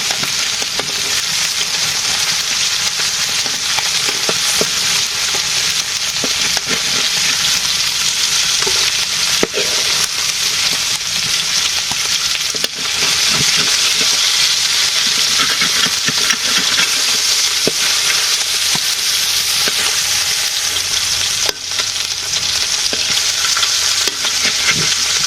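Curry being stir-fried (koshano) in a pan gives a steady, loud broadband sizzle that carries through the whole span, with occasional scrapes and stirring knocks on top and no voices.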